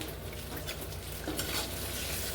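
Stuffed brinjals fry in oil with a green chilli masala, giving a steady, dense sizzle with soft crackles and occasional stirring scrapes. The sound is close and continuous.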